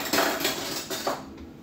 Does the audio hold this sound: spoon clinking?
yes